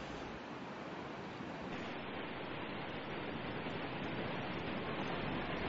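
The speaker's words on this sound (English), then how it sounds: "out in the North Pacific can send great rolling waves onto nearby beaches" Ocean surf rolls steadily onto a beach from the North Pacific, a continuous broad wash of breaking waves with no pauses, close and moderately loud, no voices.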